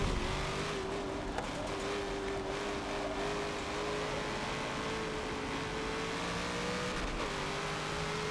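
Race car engines from the video game Forza 7, with two cars in a tandem drift session, hold a continuous loud drone that wavers slightly in pitch throughout, steady with no pauses.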